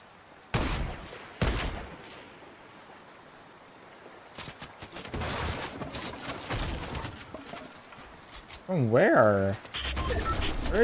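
Gunfire and sniper shots in Fortnite from several players at once: two sharp, loud cracks early on, then clustered bursts of shots, with game sound effects around them.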